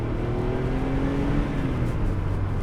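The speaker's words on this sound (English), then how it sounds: "Love the 964 engine." A Porsche 964 flat-six engine runs steadily, a close, continuous drone with rising and falling harmonic tones as it pulls along, loud and alone without speech.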